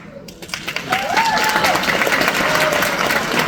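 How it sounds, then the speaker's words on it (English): Loud applause from a parade crowd fills the clip, continuous clapping after a brief quiet start, with faint voices and a whistle-like tone mixed in. "Okay, I'll quit clapping."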